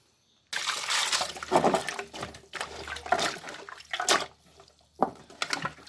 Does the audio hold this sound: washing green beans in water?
yes